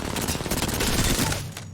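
Machine gun in Apex Legends firing a dense rapid burst of gunfire, loud and close, stopping abruptly near the end.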